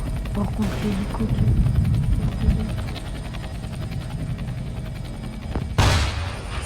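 Helicopter in the video game War Tycoon, a throbbing rotor drone running steadily while people talk, with sharp gunfire-like bursts and a sudden loud impact near the end.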